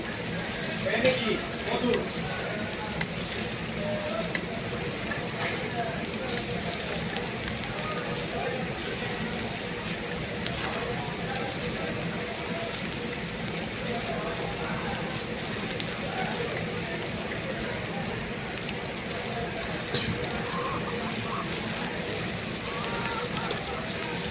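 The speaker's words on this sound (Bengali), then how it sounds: "একটা ডিম খুব ভালো করে নেড়ে চেড়ে বেজে নেব" An egg is stirred and fried in a pan while mera pitha, a Mymensingh rice cake, is being made, giving a steady, close, continuous sizzle that crackles throughout.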